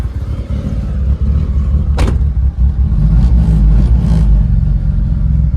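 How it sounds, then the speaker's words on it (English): Car engine running with new exhaust clamps fitted, a loud steady low rumble with slight revving swells and a brief sharp click partway through. "All you can hear is engine noise now."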